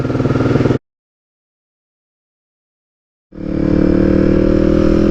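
A motorcycle with a choke engaged runs briefly, cuts out into a few seconds of silence, then fires up and settles into a loud, steady, close idle.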